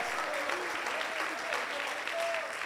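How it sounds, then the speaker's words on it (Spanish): Church congregation applauding and cheering during a sermon, a thick continuous wash of clapping with shouted voices and whoops rising through it, loud and sustained. "Alguien tiene que gritar y celebrar y aplaudir y darle gloria a Dios."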